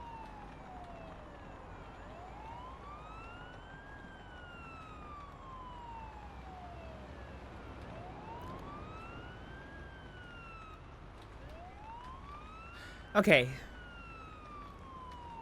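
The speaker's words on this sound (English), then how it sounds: "there's no ability to change siren tones" Ambulance siren in the video game Ambulance Life: Paramedic Simulator, a slow wailing tone that rises and falls over several cycles at moderate distance, with a brief loud clatter near the end and a short spoken word.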